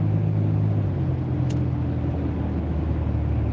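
Car accelerating through a turn on a road, a steady low engine and road rumble heard from inside the cabin, continuous and even with no talk.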